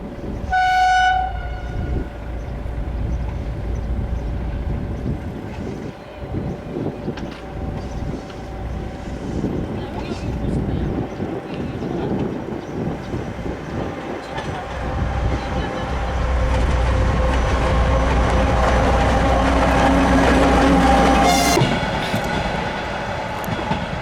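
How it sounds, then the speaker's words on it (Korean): A train horn sounds as a Trans-Mongolian passenger train of one locomotive and ten coaches rumbles past a level crossing in Mongolia, wheels rattling steadily and growing louder, with a second horn blast near the end. "울란바토르 방향으로 가는 열차다. 기관차 1량과 객차 10량인 열차다."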